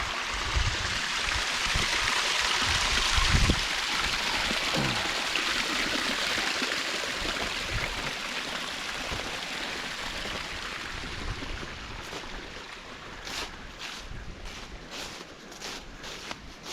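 Water from the natural spring of Mineral Springs Waterfall rushes in a steady broadband wash, with nearby footsteps crunching intermittently and faint ticking sounds toward the end.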